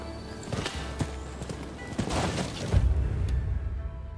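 Horse in the game Rise of the Ronin, with clip-clop hoof steps and low grunting snorts, close and fairly loud over a steady outdoor ambience.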